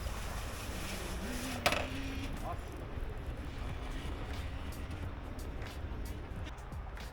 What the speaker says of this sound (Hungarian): Hát ez az egyes fokozat, kicsit búg a motor